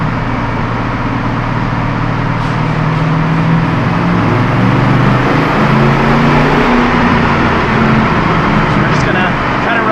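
A Chevrolet Silverado truck engine runs loud and steady, revving through its range to warm up, with a dense continuous drone and a voice talking over it.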